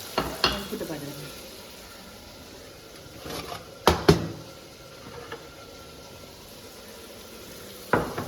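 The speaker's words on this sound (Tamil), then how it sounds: "தக்காளி நல்லா வதங்கட்டும்" Tomatoes sizzle and fry quietly in a pan, with a few clanks of stirring utensils at intervals.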